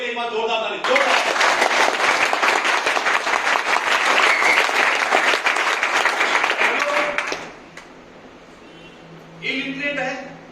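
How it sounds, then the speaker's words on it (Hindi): A large seminar audience bursts into loud, sustained applause honoring Bhojraj Godar, dense clapping lasting several seconds before fading, with a speaker's voice returning at the end. "उनके लिए एक बार जोरदार ताली"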